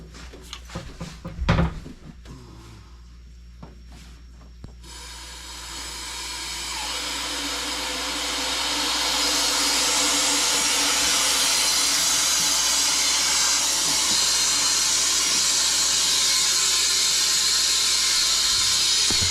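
A few clunks and handling knocks, then a Harvest Right large freeze dryer's vacuum pump starts and builds into a loud, steady whirring hiss that runs on without pause.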